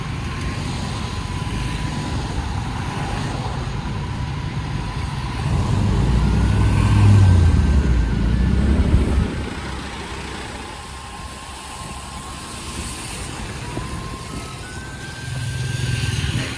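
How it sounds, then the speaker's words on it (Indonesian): Slow road traffic of cars and trucks creeping through road works on a narrowed road at Lembah Anai, with steady engine rumble and idling that swells as a heavy vehicle passes close by, then fades. "makanya kendaraan sangat-sangat pelan sekali di sini"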